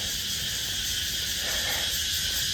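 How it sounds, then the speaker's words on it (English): Cicadas buzz loudly at 5 a.m. on an early May morning, a dense, continuous high-pitched drone that holds steady and close throughout with no gaps. "my best friends, the cicadas, are out, keeping me alive, keeping me alert, because they're so loud"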